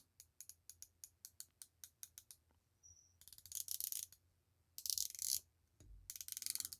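A unidirectional coin-edge dual time bezel on a Dryden chronograph watch is turned, giving a quick series of crisp, close ratcheting clicks, followed by louder scraping handling noises.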